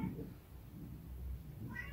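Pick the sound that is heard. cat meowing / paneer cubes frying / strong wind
cat meowing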